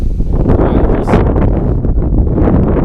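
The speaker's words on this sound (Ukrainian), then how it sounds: "Так, вітряно стало." Wind gusts buffet the microphone while pike fishing, a loud, continuous rumbling rush, with a brief hissing swell partway through.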